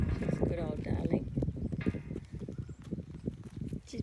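An old mare walks slowly, her hooves clip-clopping in a steady, unhurried rhythm close by, while someone talks to her over the footsteps.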